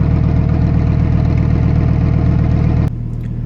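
A Lamborghini Huracan Evo Spyder idles in Sport mode with a loud, steady, deep engine drone that holds constant before cutting off abruptly near the end.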